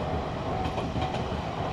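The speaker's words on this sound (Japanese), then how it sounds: "今電車が通ってますが" A train rolling through a narrow rural railway crossing in Mobara, Chiba, a loud continuous rumble with rhythmic wheel clatter close by, no speech.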